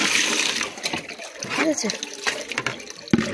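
Water splashing and trickling in a bathroom, close and uneven with a few brief spatters, while a person speaks briefly over it.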